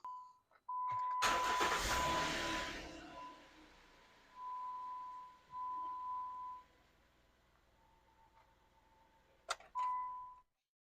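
A Jeep Wrangler JK 3.8 engine with its serpentine belt removed cranks and fires, then settles into a quieter idle. A repeated electronic chime beeps over it in separate stretches.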